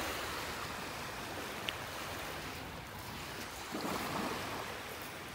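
Gentle surf washing onto a beach in North Naples, Florida at early morning, a steady soft roar of waves with a slightly stronger wash near the end and no voices.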